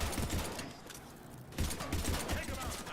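Rapid gunfire crackles in dense bursts during a video game firefight, loud and close, with a short lull in the middle before the shooting resumes.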